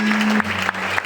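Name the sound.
audience applauding and cheering in church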